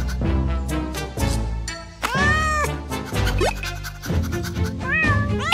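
A cartoon cat meows repeatedly, with rising and falling mews standing out clearly over cheerful children's background music.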